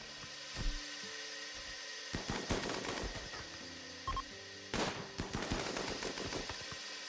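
Automatic gunfire from raiders in the colony-building game RimWorld (Biotech, dwarf run), heard as several short rattling bursts spread over a few seconds, with quieter pops between them and no talking.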